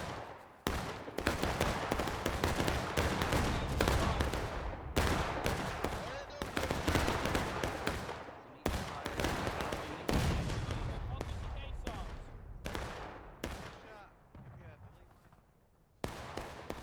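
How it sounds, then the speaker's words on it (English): Musket volleys crackle across a large War of Rights battle with hundreds of players on the Piper Farm map, dense overlapping shots and rolling fusillades in rapid succession, loud and close, with voices faintly under the firing. "He's going to try to shoot them down here"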